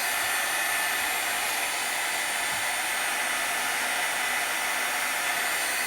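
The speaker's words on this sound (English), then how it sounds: "I'm going to bring in my heat tool." A heat tool blows a loud, constant hiss of air while drying watercolor pencil work on a stamped card, an unbroken steady roar from start to finish.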